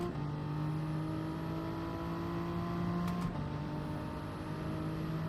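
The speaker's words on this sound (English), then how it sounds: "Look at the Jag go." Jaguar race car engine in Gran Turismo 7, a steady sustained drone with a constant pitch and a brief change near the end, loud and continuous, no voices.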